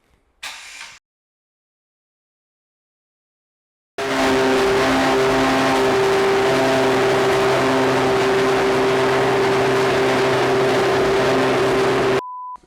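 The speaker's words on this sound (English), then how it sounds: "we're going to show off what a Formula One car should sound like" A vintage Lotus Formula One car engine fires after a brief silence and holds a loud, steady, high-pitched rev close by, a sustained harsh drone that cuts off abruptly near the end.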